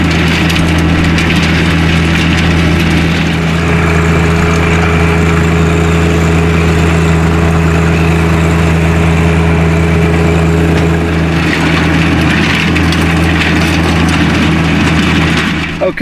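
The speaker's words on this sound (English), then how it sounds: "I'm going to do some tilling" A John Deere 1025R compact tractor engine drones steadily with a low, constant hum while a rotary tiller churns beneath it, loud and close throughout.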